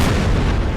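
A loud, dense volley of musket fire from massed infantry in the Napoleonic-era strategy game Empire: Total War, a single booming blast filling the whole moment.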